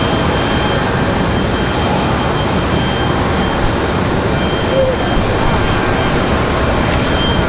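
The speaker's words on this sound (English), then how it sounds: "Aeromexico headed back to Mexico City. Nice early rotation for the E190." An Aeromexico Embraer E190 jet takes off from Raleigh-Durham International Airport, a continuous loud engine roar with a steady rumble across the whole stretch.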